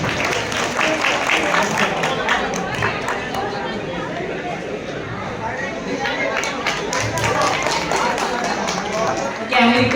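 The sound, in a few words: audience applause at a stage event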